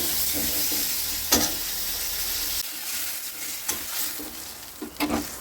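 Fish roe cooks with turmeric powder in a pan for a sour mango dish in a village kitchen, giving a steady sizzle broken by several spatula scrapes and knocks. The frying softens partway through, and no one speaks.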